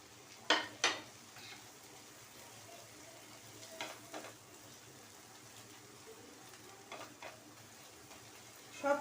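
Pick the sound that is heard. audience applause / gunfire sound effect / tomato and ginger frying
tomato and ginger frying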